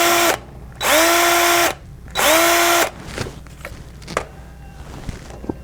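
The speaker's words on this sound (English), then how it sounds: "I'll take my flathead drill," A power drill fitted with a flathead bit loosens screws on an electrical motor starter, running in two loud, sustained bursts of about a second each with a short gap between, followed by fainter handling clicks.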